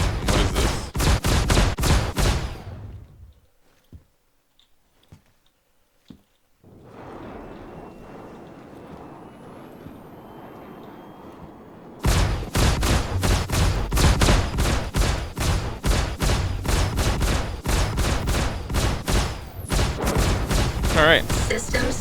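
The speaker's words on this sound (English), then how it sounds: "Oh my god, who's shooting?" Rapid gunfire in the space game Star Citizen: loud bursts of fast, evenly spaced shots, then a quieter gap with scattered single shots and a low rumble, before a sustained barrage returns.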